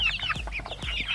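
Young chicks at about two weeks old, cheeping and clucking in high, rapid peeps, close and fairly loud, with no talk.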